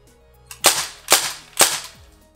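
An Umarex M1A1 BB gun fires three sharp, loud semi-automatic shots with blowback, evenly spaced about half a second apart, with no talking.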